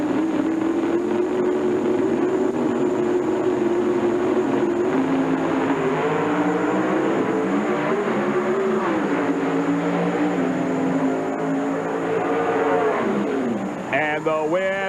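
Two NHRA drag racing cars run side by side, a loud continuous engine roar with rising and falling pitch that peaks and fades near the end.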